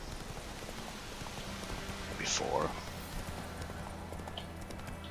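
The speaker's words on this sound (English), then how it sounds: "But now I feel like the horse is getting stuck like all the time." Horse hooves clop softly from a mount in The Witcher 3: Wild Hunt, with one brief hoof burst standing out over quiet game ambience while a voice speaks a word.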